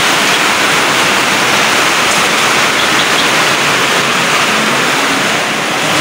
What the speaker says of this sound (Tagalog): umuulan pa rin, lakas pa rin ng ulan